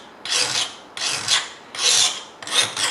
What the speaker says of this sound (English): just take a file and give myself a nice straight flat edge